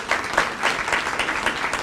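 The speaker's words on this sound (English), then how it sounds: "Can we give the vice chair a round of applause?" Audience applause at a county realtors' association breakfast, steady broadband clapping from a room of people filling the full stretch without pause.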